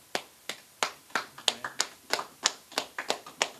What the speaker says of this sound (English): Just clap it up.